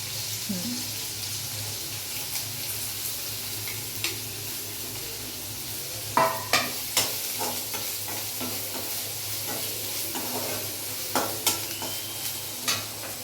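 Grated coconut and coriander fry in hot oil in a pan for temple-style chitranna, a steady sizzle under scattered clicks and scrapes of stirring, with a few sharper knocks midway.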